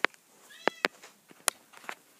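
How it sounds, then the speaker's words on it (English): Several short cat meows from a domestic cat, faint and somewhat distant indoors, coming in scattered bursts over a couple of seconds with a quiet room behind them. "You might hear my cats in the background."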